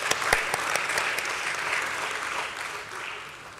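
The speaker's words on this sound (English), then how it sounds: "Let's have a huge round of applause for him," Audience applause rings out at a stock exchange listing ceremony, a continuous burst of many hands clapping close and full for the whole stretch.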